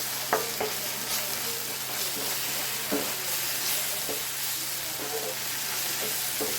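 Noodles frying in a pan with Schezwan sauce, a steady sizzle throughout with repeated scrapes and clinks of stirring, close and moderately loud.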